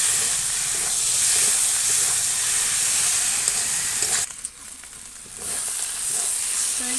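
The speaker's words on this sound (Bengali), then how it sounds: "সরষে দিয়ে এই যে হালকা গা পোড়া একটা ভাজা ভাব এসে গেছে" White mustard seeds sizzle and crackle in hot oil in a pan while being stirred, frying into a chicken cutlet recipe; the hiss dips briefly for a moment, then resumes steadily.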